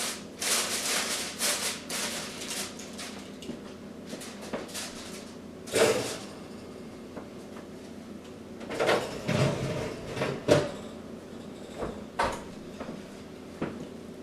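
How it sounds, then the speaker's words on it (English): Aluminum foil is crinkled and pressed over a baking pan of breaded pork chops. Close rustling and crackling bursts come in irregular spells with quieter pauses between, and no one speaks. "Let's cover the baking pan with aluminum foil and place in the oven."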